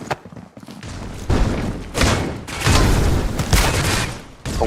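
A frag grenade detonating in a competitive first-person shooter match, heavy booming blasts and thuds layered with gunfire, loud and dense across several seconds.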